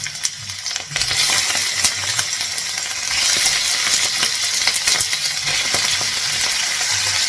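Cleaned chicken hearts dropped into hot oil in a pan, a loud steady sizzle and crackle with sharp spits and pops, rising as they hit the oil and continuing unbroken.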